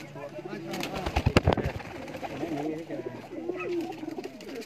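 A pigeon coos in low, rolling bursts, close by, with people talking over it and a few sharp taps in the middle.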